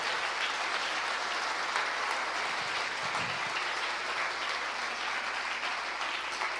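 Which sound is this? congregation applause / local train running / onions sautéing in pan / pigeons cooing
congregation applause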